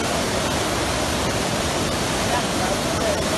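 Heavy rain and rushing water in Luanda, a steady, loud broadband wash that does not let up.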